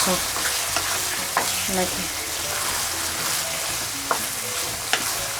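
Sheep tripe (ojri) frying in oil with green chilies, a steady loud sizzle broken by scraping stir strokes and a few sharp clinks of the spoon against the pan, with no talk.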